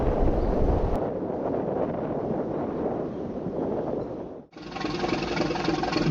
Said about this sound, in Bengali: প্রচুর বাতাস নদীতে প্রচুর স্রোত দেখা যাচ্ছে